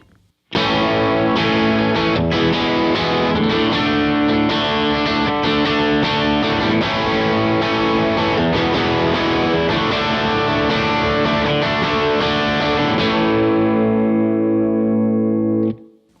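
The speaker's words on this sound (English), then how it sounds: "So I'll set my amp a little dirtier and then kick on an overdrive pedal." Electric guitar strummed continuously through a slightly dirty amp with an overdrive pedal engaged, thick saturated tone and some chorus-like shimmer, loud and close, ringing out at the end.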